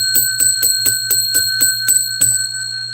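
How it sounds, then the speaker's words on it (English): A bell rung in quick, even succession about ten times, each bright metallic strike close and loud, ringing on with a sustained tone that fades after the final stroke. "I'll ring the bell 10 times"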